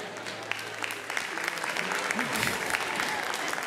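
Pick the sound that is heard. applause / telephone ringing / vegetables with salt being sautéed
applause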